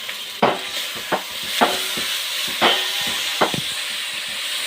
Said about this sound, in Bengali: এই সময় হালকা আঁচে মশলাটা কষাতে হবে, না হলে নিচে লেগে যেতে পারে